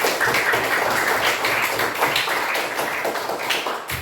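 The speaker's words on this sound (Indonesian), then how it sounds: "Kelompok Wage Supratman mendapat nilai 90. Tepuk tangan." Classroom applause as a student group is awarded a score during a lesson: a steady, dense patter of many hands clapping at close range, continuing evenly without a break and with no voices over it.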